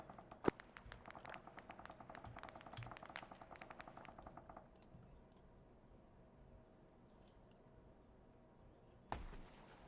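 Rapid bursts of small arms fire in a military video game, a dense run of sharp close shots for about four seconds, then quieter distant pops and one loud final shot.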